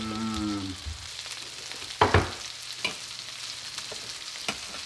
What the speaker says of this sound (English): Look at this, in the marinade of the fish mixed with the coconut oil.